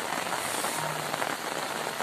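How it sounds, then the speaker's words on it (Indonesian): Steady rain pours down on a narrow village lane in the countryside, a dense, even patter of drops hitting the ground, close and continuous with no voices. "Eh, dari tadi hujan-hujanan saya."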